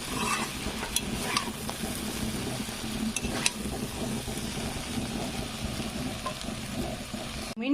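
Vegetable chow mein stirred and fried in a pan, a continuous close sizzle with repeated scraping and tossing strokes, no voices.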